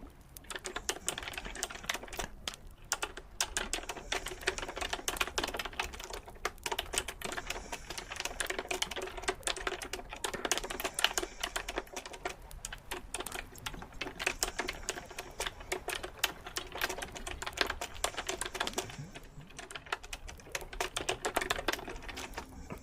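Rapid, continuous keystrokes patter on a computer keyboard at close range, a dense stream of small clicks with only brief gaps, and no voices over it.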